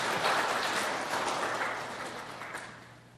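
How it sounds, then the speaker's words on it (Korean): Church congregation applauding during a Sunday service, a dense, steady wash of clapping from many hands in a large room, fading gradually, with no talk over it. "박수 한번 해도 괜찮습니다"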